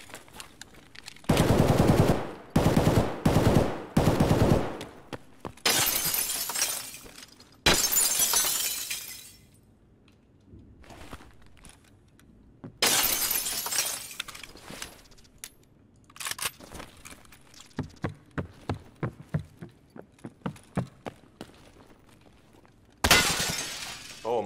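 Gunfire in the Escape From Tarkov video game comes in loud rapid automatic bursts and single shots, with sharp impact cracks and quieter scattered clatter between volleys, no talk.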